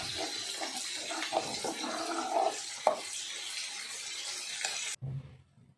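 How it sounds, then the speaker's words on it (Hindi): Rice for kheer simmering on a low flame while being stirred, a steady bubbling, watery wash with occasional scraping knocks of the spoon, close and moderately loud, dropping to near silence at the end. "इसी तरह से हिलाते हिलाते धीमी आंच पर ही मैं इन्हें पकाऊंगी।"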